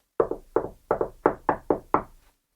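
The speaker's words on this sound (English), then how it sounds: "He didn't have to wait very long before there was a knock on the door." Seven firm knocks on a wooden door come in a quick, slightly uneven rhythm, each a sharp hollow thud close by with nothing else heard.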